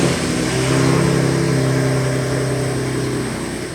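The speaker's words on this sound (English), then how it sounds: "We're gonna cold start it right now and see how it sounds, see how it starts up, and how it idles." A 2023 Ford Raptor's tuned 3.5 EcoBoost V6 running on E85 cold-starts and holds a loud, close, steady idle with a strong engine hum that slowly eases in volume.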